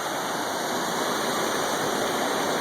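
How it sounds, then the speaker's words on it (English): A small waterfall pours steadily into a creek, giving a continuous, close rushing hiss with no voices. "Another little waterfall area down here."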